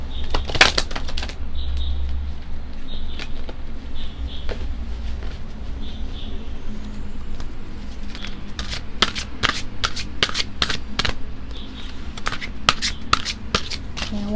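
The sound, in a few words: shuffling a deck of cards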